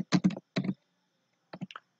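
Quick bursts of computer keyboard typing while HTML table code is entered: a rapid cluster of close key clicks, a pause, then a few more keystrokes, with no voices.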